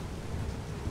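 Steady rain falls in the ARK Survival Evolved video game, a dense, even hiss with low rumbling beneath, continuous through the brief moment.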